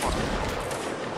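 Musket volley in a Mount & Blade Warband multiplayer battle: a dense, loud burst of overlapping gunshots crackling together at once, with the rattle trailing off over about a second.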